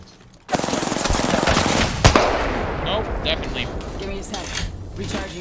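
Rapid automatic gunfire from the Apex Legends game erupts suddenly and keeps going, dense and loud, with one sharp louder hit midway before it thins into scattered shots and in-game effects.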